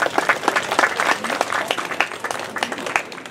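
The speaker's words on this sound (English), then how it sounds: "a round of applause for anyone that has something to do with the town of Cobourg" Audience at a festival songwriters showcase breaking into applause, dense overlapping clapping from a crowd, steady and fairly close, with a faint voice underneath.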